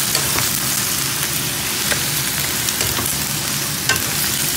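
Ingredients stir-fry in a hot pan while making homemade herbal medicine wine, giving a dense, continuous loud sizzle with scattered crackles and scraping stirs, heard alone without talk.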